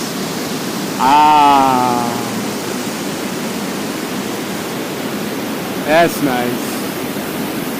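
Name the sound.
waterfall rushing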